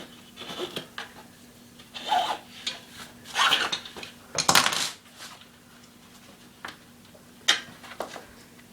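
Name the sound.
tire levers prying a unicycle tire off the rim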